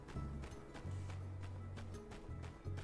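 Horses in the video game My Time at Sandrock, a rhythmic run of hoof clip-clops over a low sustained musical drone, steady and fairly quiet throughout.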